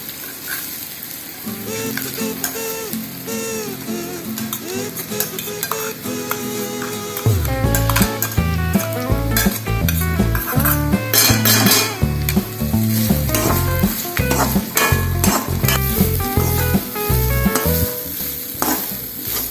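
Grated coconut sizzling and being stirred in a pan with green chillies while cooking beetroot rice, steady frying hiss with scraping strokes, joined midway by louder background music.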